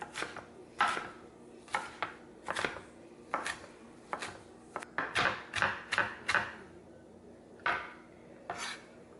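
A knife chops onions on a cutting board in a home kitchen, making sharp, irregular thuds in short bursts with pauses between them, close and clear.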